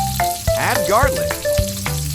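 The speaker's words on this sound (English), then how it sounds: "Add garlic." Garlic frying in a hot pan, a steady sizzle heard close up beneath a melodic music track with rhythmic bass notes.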